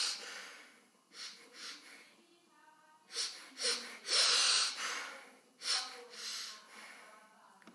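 A person imitates Cheyne-Stokes breathing with a voice, producing a waxing and waning series of breathy inhalations and exhalations, some snorting and wheezy, swelling to loud gasps and then fading, close and alone.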